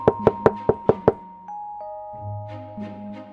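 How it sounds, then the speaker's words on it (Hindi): A sharp knocking on a door in a Hindi cartoon story, as a sadhu knocks at night: six quick, loud raps in a steady rhythm, followed by soft tonal music. "एक साधु आया और ढोलू के घर का दरवाजा खटखटाया।"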